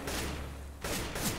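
Gunfire in the video game Counter-Strike: Global Offensive comes as dense, noisy bursts of shots, loud and continuous, with a brief break partway through.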